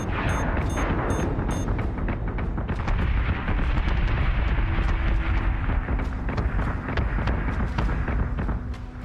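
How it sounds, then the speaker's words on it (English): Missile explosions in the space strategy game BSG Deadlock, a dense, continuous barrage of loud booms and blasts with sharp bursts layered over a rumbling low roar throughout. "Missiles incoming!"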